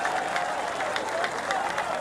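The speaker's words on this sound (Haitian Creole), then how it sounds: "demandez pour nous applaudir" Audience applause at a Haitian political speech, a steady dense patter of clapping hands sustained throughout at moderate loudness, with broadband crackle and faint crowd voices mixed in.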